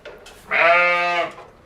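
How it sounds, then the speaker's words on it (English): A single sheep bleats once on a livestock farm, a loud, close, wavering cry lasting under a second, heard alone. "Sheep!"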